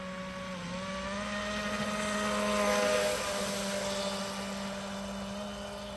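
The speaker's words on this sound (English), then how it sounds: "A very smooth sounding prop." A multirotor drone spinning an ABC 1814 propeller gives a steady, smooth motor-and-prop whine with a constant humming tone. It swells briefly in the middle, then settles back to an even drone, with no voices.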